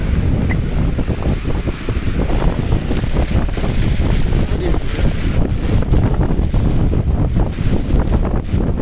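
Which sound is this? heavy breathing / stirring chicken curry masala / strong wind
strong wind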